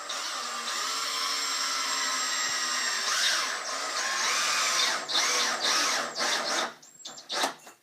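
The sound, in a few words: power drill driving screws into wood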